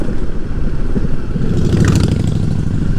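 A busy biker meeting place crowded with Honda Cubs, C90s, C50s and classic motorcycles, with engines idling and revving together in a steady, dense rumble and clatter that continues throughout.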